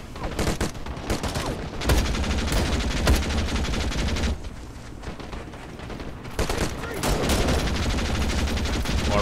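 Dense gunfire and heavy mortar-style blasts from a defensive gun position in the video game Call to Arms, a continuous loud barrage of rapid shots and booms with little pause.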